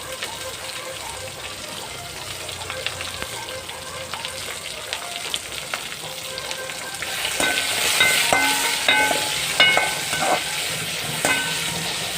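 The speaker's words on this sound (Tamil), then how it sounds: "அடுத்து வெங்காயம் போட்டு வதக்கிக்கோங்க நீங்கள் நல்லா வதங்கட்டும்" Onions sautéing in a pan for an oyster mushroom gravy, a steady sizzle with stirring scrapes that grows louder and busier midway, with a faint hiss running throughout.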